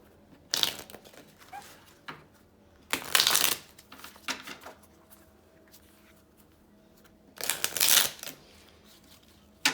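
Three bursts of tarot cards being shuffled, each a quick riffling flutter lasting under a second, separated by quiet pauses with faint background rustle.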